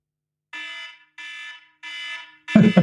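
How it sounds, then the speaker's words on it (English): A timer alarm signalling that five minutes are up sounds three evenly spaced loud electronic beeps, and a voice starts right after the last one. "I will be setting a timer off"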